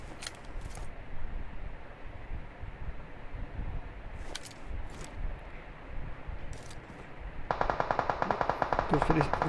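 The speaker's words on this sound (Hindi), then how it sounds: "जब फायरिंग की साउंड आती है" Automatic gunfire in a battle royale shooter game rings out over a steady, noisy game ambience, with scattered distant shots and then a rapid, evenly spaced burst near the end.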